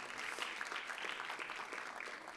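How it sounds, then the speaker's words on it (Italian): Audience applause at a press conference for a Gianni Schicchi film production, a steady, fairly faint patter of many hands clapping that continues without a break from start to end. "facciamo un bel applauso"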